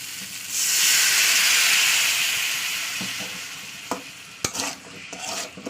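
Potatoes stir-fried in a pan with a splash of water: a loud steamy hiss bursts up and slowly fades, followed by a few scraping stirs and knocks of the spatula close by.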